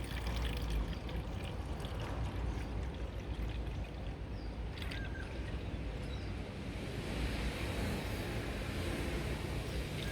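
Filtered water pouring steadily into a spray bottle in a garden, a continuous loud splashing rush that runs unbroken with no talking.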